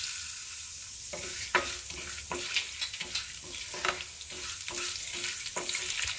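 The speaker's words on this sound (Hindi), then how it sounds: "अभी थोड़ा सा चने की दाल रोस्ट हो रही है" Chana dal roasts in a pan, a rhythmic series of spatula scrapes and stirs over a soft, continuous sizzle, close and moderately loud.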